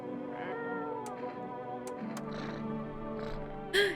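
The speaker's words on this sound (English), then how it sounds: "Oh, the kitty cat!" A cat meows in a video game, with a few short mews over a steady music-like background and a louder mew near the end.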